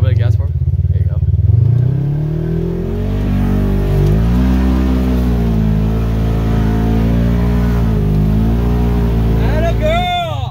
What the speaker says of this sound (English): Give it a little bit of gas for him.